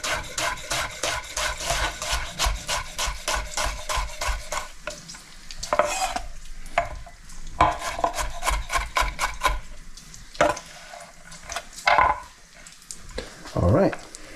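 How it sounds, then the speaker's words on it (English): A knife chops onions fairly finely on a board for a Hungarian chicken stew, a quick run of steady close taps followed by looser, scattered cuts and scraping. "So I'm going to finely chop the onions."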